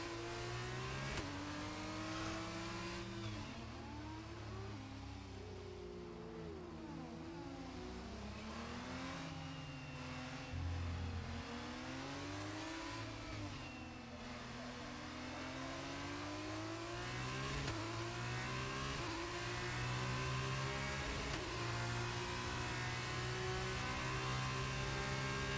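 Formula 1 race cars in F1 22, played in VR, roar continuously, their engine pitch sweeping up and down through gear changes as several cars run close together, loud and unbroken for the whole stretch.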